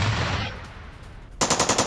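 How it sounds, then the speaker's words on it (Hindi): Heavy gunfire from Ukraine war footage as a Russian tank brigade advances under artillery: a loud burst fades into rumble, then a rapid machine-gun-like string of close shots. "यहां पर रशियन टैंक ब्रिगेड आगे बढ़ रही है हैवी फायरिंग आर्टिलरी के साथ"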